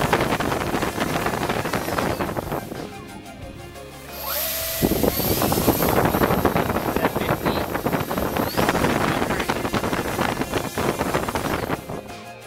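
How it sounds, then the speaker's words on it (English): An NTM Prop Drive 28-26A 1200kv motor spins a propeller at high thrust, producing a loud, rushing wind roar and whine heard up close, dipping briefly before surging again for several seconds. "It's always kind of fun to stand in front of the prop to see what, how much wind noise it really makes."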